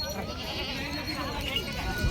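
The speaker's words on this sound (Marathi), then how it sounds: "या 2 शेळ्या गावरान शेळ्या आहेत" Goats bleating at a village goat market among local country goats, a crowd murmuring steadily beneath the calls, with a louder bleat near the end.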